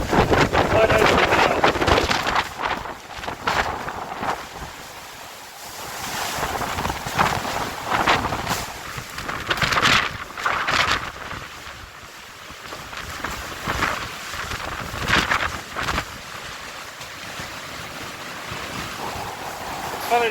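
Strong night wind on a boat at Varazze, gusting and buffeting the microphone in repeated loud bursts over splashing water and hull noise.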